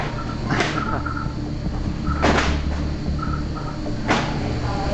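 A heavy warehouse freezer door slides open and shut three times in steady succession, each pass a loud whooshing scrape over a constant mechanical hum.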